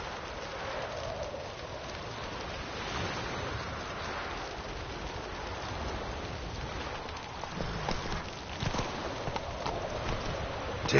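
Hooves of the horse Roach in The Witcher 3 clip-clop steadily on the ground under a constant hiss that sounds like rain, with the steps growing a little more distinct toward the end.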